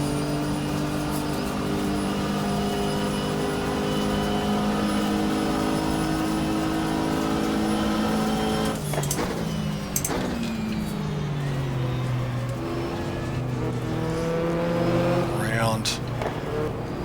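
Race car engines in the GTR2 racing game at Daytona, a 1995 24-hour race, droning steadily loud throughout with pitch sweeps as cars shift and pass around the banking.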